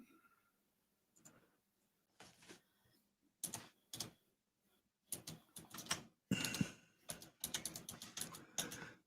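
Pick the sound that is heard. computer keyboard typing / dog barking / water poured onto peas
computer keyboard typing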